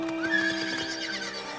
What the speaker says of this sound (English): I'm on a horse again!